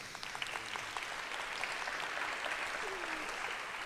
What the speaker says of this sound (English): we need to just start with a round of applause for this gentleman to my right